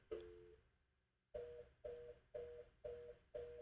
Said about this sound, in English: And hopefully you can hear the reorder tone.